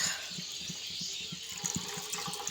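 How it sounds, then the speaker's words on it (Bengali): Liquid milk pours steadily into a cooking pot for rasmalai, a continuous watery trickling stream with soft splashes, close and moderately loud, with no talking. "এর মধ্যে এখন আমি দিয়ে দিচ্ছি লিকুইড দুধ"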